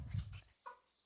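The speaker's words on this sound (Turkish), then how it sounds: "Aa tavuk girmiş" A chicken gives a brief cluck nearby, with a short rustle before it in an otherwise quiet space.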